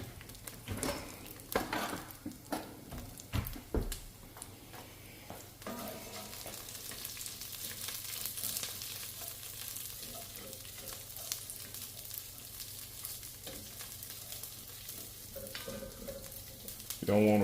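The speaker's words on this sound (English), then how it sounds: "You can hear it sizzling." Food sizzles and fries steadily in a pan on a stovetop, a continuous crackling hiss running throughout, with a few clinks of utensils and stirring near the start.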